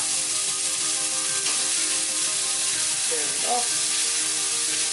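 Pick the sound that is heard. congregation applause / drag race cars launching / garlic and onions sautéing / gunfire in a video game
garlic and onions sautéing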